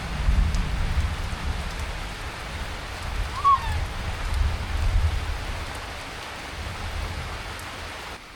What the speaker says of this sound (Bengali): আজকে কোনো বাতাস নেই ঝড় নাই শুধু বৃষ্টি হচ্ছে